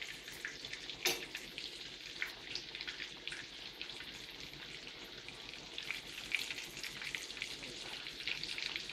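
Breaded meat cutlets fry in oil deep enough to cover them, a soft continuous sizzle with small pops and one brief sharp crackle, fairly quiet throughout.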